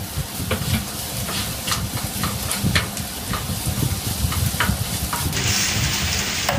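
Onions frying in a pan are stirred with a utensil, giving a constant close sizzle broken by repeated scraping and clinking strokes against the pan, with a sharper hiss swelling near the end.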